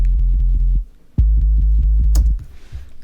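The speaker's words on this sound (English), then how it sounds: "sine wave with the arpeggiator function in Alchemy" A deep synth bass made from a sine wave run through the arpeggiator in Alchemy pulses in quick, even repeated notes, loud and alone, with a short gap before the pattern resumes on a different pitch.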